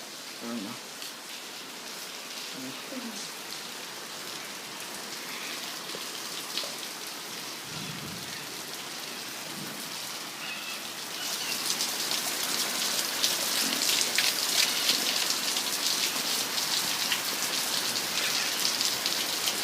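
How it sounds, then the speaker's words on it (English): Rain falls steadily during a thunderstorm in Miami, Florida, a dense hiss of drops on surfaces that grows heavier partway through, with faint low rumbles and brief background voices. "It's raining."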